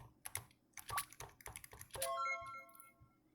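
Quick bursts of computer keyboard typing and mouse clicks clatter nearby while a fast-paced game is played, with bright chime-like game tones ringing out toward the end.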